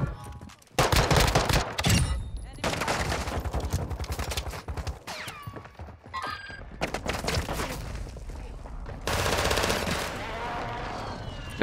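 Bursts of automatic fire from a Fennec submachine gun and an RPK light machine gun in the Warzone 2 Mini Royale battle royale mode, loud rapid volleys broken by brief pauses.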